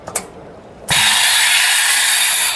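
A pneumatic printing machine for lanyards cycles after its button is pressed. A couple of quick mechanical clicks come first, then a loud, steady hiss of air and machinery runs for the rest of the moment.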